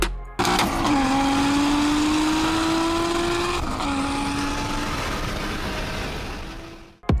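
A Toyota Supra MK4 with its inline-six engine revs loudly and steadily, pitch climbing and then dipping as it shifts through gears, sounding close and continuous before cutting off at the end.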